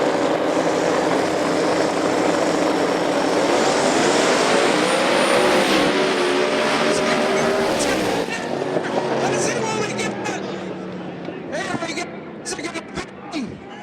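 Twin-turbo Camaro outlaw drag race cars make a pass together, a loud sustained roar of engines that rises in pitch and then fades after about eight seconds, leaving crowd and commentary noise.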